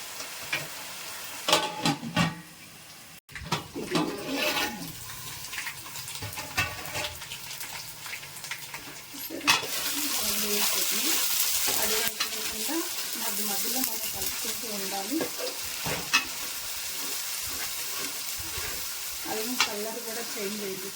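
Ginger frying in oil for mutton biryani. Quiet scraping and stirring at first, then a loud, continuous sizzle rises halfway through, with light clinks of utensils.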